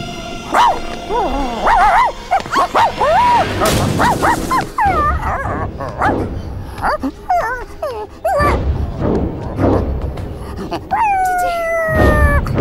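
A dog barks, yips and whimpers in short excited bursts, close and loud, with voices mixed in among the calls.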